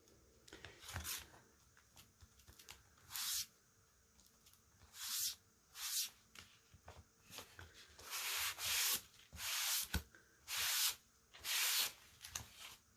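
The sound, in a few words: rubbing wax into a knot hole on wood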